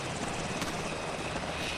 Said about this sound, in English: See a helicopter.